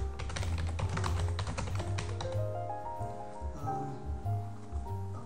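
Typing on a computer keyboard to send text to an LCD display in an embedded web server setup, quick soft taps in an irregular run, partly blended with a steady tonal background.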